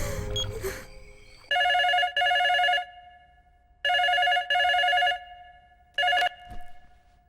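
A telephone rings in a tonal electronic pattern of paired bursts, three sets in a row with the last cut short, loud and close, followed by a faint noise.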